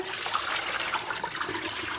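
A bowl of water used to wash turnip greens is poured down a kitchen drain, giving a continuous splashing gush and gurgle that stays fairly loud and close, with no talking.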